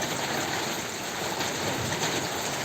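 Heavy rain pours steadily under a dark sky, a loud, even hiss with no pauses and no voices.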